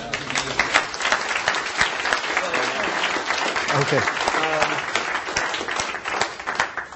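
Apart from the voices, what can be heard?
audience applause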